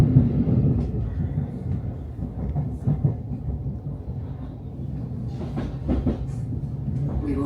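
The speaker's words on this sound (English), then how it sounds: "There's another train coming the way, look." A train passes on the railway, heard as a continuous low rumble with rhythmic clattering from the wheels on the track, fairly near and sustained throughout.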